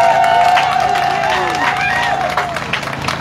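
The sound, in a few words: crowd applauding the soldiers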